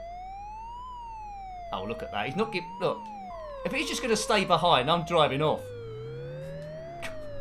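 A wailing police car siren in an Amiga driving game, rising and falling steadily throughout the clip with a synthetic tone, while someone talks over it in the middle section.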